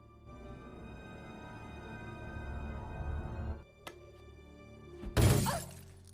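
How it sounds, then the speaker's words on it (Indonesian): A chair slams into glass in the film I, Robot, which cracks without breaking through: a low rumbling buildup, a sharp tap, then a loud crashing impact near the end. "setelah kaca dibenturkan dengan kursi, tidak sedikit pun berlubang"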